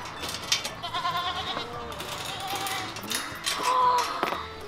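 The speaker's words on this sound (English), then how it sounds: "There's a bunch of goats over here." Goats at a farm pumpkin patch bleat several times at close range, wavering calls scattered among light background chatter and outdoor noise.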